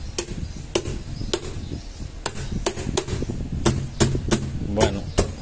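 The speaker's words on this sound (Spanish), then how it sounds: "Aquí lo que podemos hacer es poner en alguna velocidad, lo que sea, y darle unos golpes a ver si los carbones se mueven, se acomodan." Sharp knocks rapped on a running blender to reseat its carbon brushes, about a dozen crisp irregular taps over the steady low whir of the motor.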